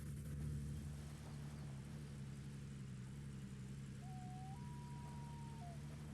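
Truck engine in the Gold Rush game, heard from inside the cab as a steady, muffled low idle-like hum with no one talking.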